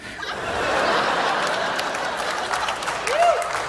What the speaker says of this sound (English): Don't clap, please.